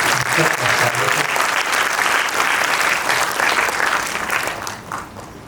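An audience at a cultural program applauds performing children with dense, sustained clapping that stays loud before easing slightly at the close.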